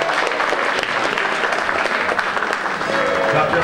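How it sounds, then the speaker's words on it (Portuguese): An audience claps steadily and densely for a few seconds in praise of viola players at a live music gathering, with a voice faintly audible beneath the clapping. "Cadê as palmas, gente, para os violeiros aí?"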